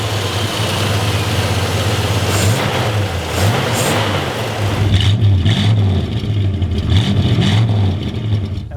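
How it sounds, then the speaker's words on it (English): A 1966 Dodge Dart GT small-block V8 idling with a rough, loping rumble, then blipped a few times in short throttle rises that fall back to idle, close and loud with no talk. "So turn on that engine."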